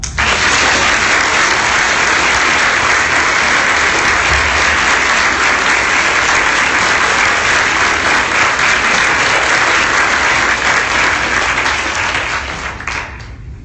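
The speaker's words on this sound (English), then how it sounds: "In the memory of May, let's all applaud." Convention panel audience at Phoenix ComiCon applauding together in memory of a person, a loud, sustained wash of clapping from a large crowd that holds steady for about twelve seconds before tapering off at the end.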